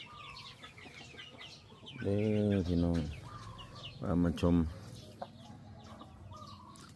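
Chickens, giant Brazilian breed on a farm, cluck softly in the background throughout, while someone speaks briefly twice over the farmyard sounds.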